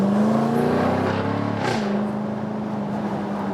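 A 2020 Jaguar F-Type V8 P450 convertible in Dynamic mode climbs a hill, its engine droning loud and steady from inside the car, pitch rising slowly before dropping at a gearchange and settling into a steady cruise.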